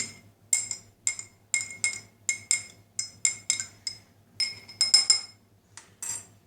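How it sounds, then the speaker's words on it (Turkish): A spoon knocks and clinks against a glass holding lemon peels, a rapid run of bright ringing taps at close range, alone. "Şimdi bir tane bir kaşık alayım karıştırayım."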